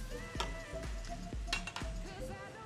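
Onions sauté in a pan, a soft sizzle under repeated clinks and scrapes of a utensil against metal, close and moderately loud, with no talk.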